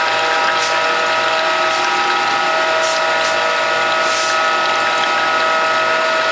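Norwalk juicer pressing sugarcane and orange for juice, giving a loud, steady mechanical hum with ratcheting and pump-like tones and a few brief hissing bursts.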